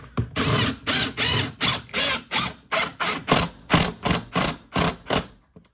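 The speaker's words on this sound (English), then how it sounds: "Milwaukee brushless impact driver." Milwaukee brushless impact driver driving screws while mounting a climbing hangboard at home, a rapid series of about a dozen loud, close hammering bursts separated by short pauses.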